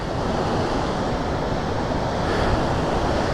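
Fast, cold mountain river water rushes on the road to Shimshal Valley in Upper Hunza, Gilgit-Baltistan. It makes a dense, steady, loud roar that fills the whole stretch without a break, with no voices over it.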